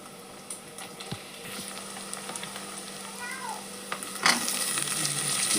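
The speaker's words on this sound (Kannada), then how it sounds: "ಎಣ್ಣೆ ಒಳಗೆ ಫ್ರೈ ಆಗ್ಬೇಕು ನೋಡ್ರಿ ಅವು." Chopped vegetables frying in hot oil for a vegetable pulao tempering, a steady close sizzle with scattered crackles and a louder burst near the end.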